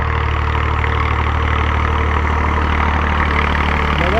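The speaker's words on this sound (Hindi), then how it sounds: "ट्रैक्टर आ रहा है हमारी तरफ भाई साहब।" A tractor ploughing a field as it approaches: a loud, continuous low diesel engine drone with a steady throb, close and unbroken throughout, with no voices heard.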